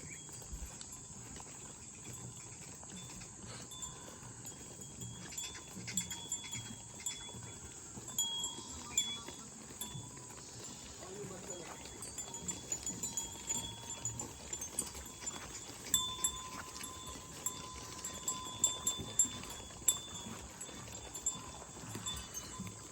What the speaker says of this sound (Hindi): ये असल में ज़मीनी चराई जो होती है ये भेड़ों की होती है।